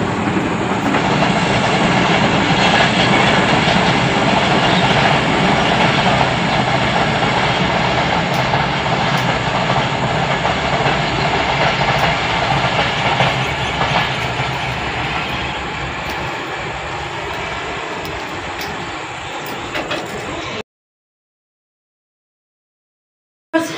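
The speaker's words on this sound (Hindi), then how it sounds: "तो फिर ट्रेन आ गई है जी" A train passes close by in a Pakistani village, a loud sustained rumble with rhythmic wheel clatter that slowly fades before cutting to silence.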